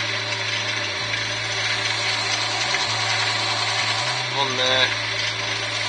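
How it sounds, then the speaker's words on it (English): A wood lathe turning a yew blank runs slowly with a steady low hum and motor whine, shifting pitch slightly a couple of times while someone talks over it. "And I'm going to set the lathe going slowly."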